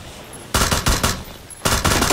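Bursts of rapid automatic gunfire in PUBG, two dense volleys of loud, close shots separated by a brief lull, no talk over them.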